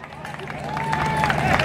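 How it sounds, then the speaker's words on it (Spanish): A large crowd at a banda concert in Toyota Park, Chicago claps and cheers in a dense, building wash of applause. A sustained whistle-like tone rises above the crowd noise. "¡Vamos a darle un fuerte aplauso!"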